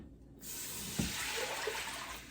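Vegetable and chicken stock, both unsalted, pours steadily into a pan in a home kitchen, a soft continuous liquid rush that begins abruptly and runs on quietly with no talk.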